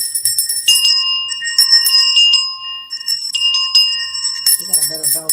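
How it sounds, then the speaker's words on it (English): A small hand bell rings loudly and close in repeated shakes, its bright sustained tones overlapping, with a voice coming in near the end. "Ring the bell for the children."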